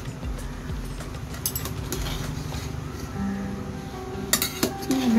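Chicken biryani gets stirred in a home pot, with repeated scraping and clinking of a metal spoon against the vessel at close range, plus a few sharper clanks and faint bird calls in the background.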